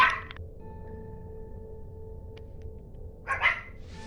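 A dog barks in a room during a No Man's Sky gaming session, with a few sharp barks at the start and a louder burst near the end over a low steady game hum.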